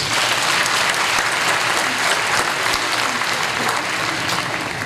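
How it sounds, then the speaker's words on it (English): Sustained, dense applause from a large audience at a university graduate school commencement ceremony, steady and loud throughout with no talk over it. "Let's give our teachers and faculty a round of applause, please."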